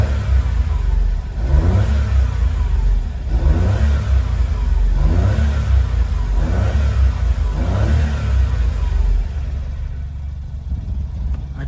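An old car's engine runs at a car yard in Osaka, a steady close mid-pitched hum with rhythmic swells every couple of seconds, holding on continuously before easing slightly near the end.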